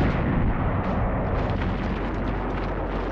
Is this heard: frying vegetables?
no